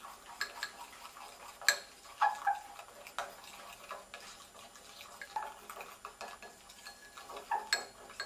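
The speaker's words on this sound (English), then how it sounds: "I just keep mixing it until I get a flesh color." Coloured magnetic slime is mixed by hand toward a flesh tone, producing soft, intermittent squelches and sticky clicks at close range. Faint background sounds accompany it, with no voices.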